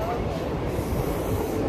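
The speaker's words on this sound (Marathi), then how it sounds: "लोकल ट्रेन गेले." A Mumbai local train rolls past near Wankhede Stadium, a loud, close rumble of wheels and carriages with a continuous heavy roar across the whole stretch.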